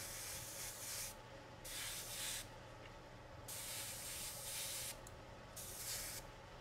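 Spray paint hissing onto the brass barrel of a machine gun on a 1/48 Hasegawa C.202 Folgore model aircraft: five short, steady bursts of airy spray separated by brief pauses, close and moderately loud over a low hum.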